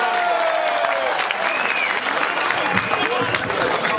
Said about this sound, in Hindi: दोनों हाथ ऊपर उठाकर तालियां बजाकर आमंत्रित करें